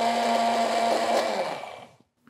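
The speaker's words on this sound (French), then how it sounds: "Je vais la mettre dans un petit robot coupe. Et on va mixer jusqu'à avoir une pâte" A small food processor grinds pecans into a paste with a steady, loud motor whir that runs without interruption and then winds down and stops near the end, with no talking.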